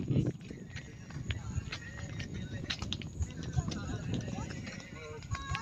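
Horses walk along a mountain trail at Sonmarg in Kashmir, with soft hoof clip-clop steps mixed into steady outdoor noise while people talk throughout.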